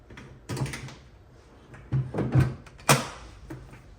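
Club Car DS golf cart battery being bolted to its battery tray with mounting hardware during a lithium conversion: several short metallic clunks and scrapes, spaced irregularly, close by.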